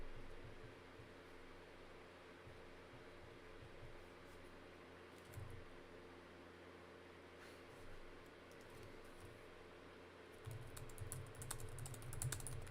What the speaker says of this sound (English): I'm typing. Hold on.